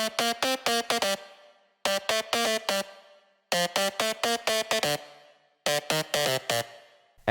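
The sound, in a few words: bandpass-filtered distorted saw synth lead layer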